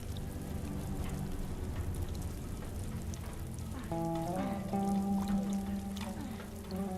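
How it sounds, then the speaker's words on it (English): Steady rain patters throughout in the video game The Last of Us, joined midway by sustained eerie tonal music rising over the downpour. "The rain falling down, the eerie music, sounds perfect together."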